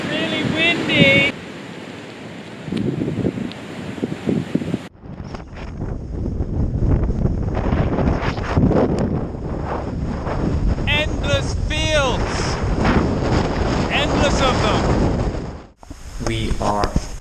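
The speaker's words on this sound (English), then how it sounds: "It's really windy!" Strong wind sweeping across a dry mud flat lake in Western Australia, buffeting the microphone in a loud, continuous roar, with a person talking intermittently over it and a brief drop near the end.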